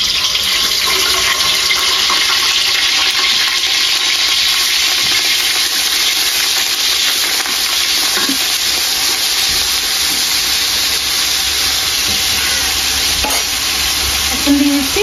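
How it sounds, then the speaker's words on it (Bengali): Onions frying in hot oil with whole spices and two green chillies make a loud, steady, close sizzle that hisses without a break for the whole stretch, with no voices over it. "মশলা ভাজা হয়ে গেছে, এখন দিয়ে দিচ্ছি পেঁয়াজ।"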